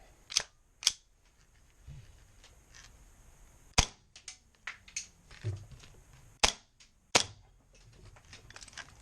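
A custom Gold Match airsoft pistol fires single sharp, crisp snaps into a piece of foam, about a dozen irregularly spaced shots close by in an otherwise quiet room.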